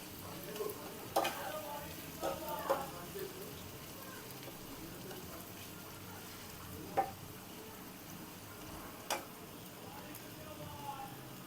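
Fish frying in oil with onions, green chili, salt and turmeric, a soft steady sizzle with occasional clicks and knocks of stirring, fairly quiet.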